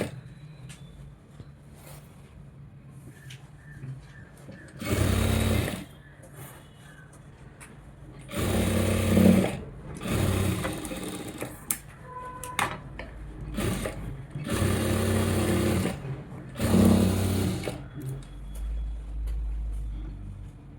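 A sewing machine stitches fabric in several short bursts of rapid mechanical whirring, separated by quiet pauses with small handling sounds, close and moderately loud.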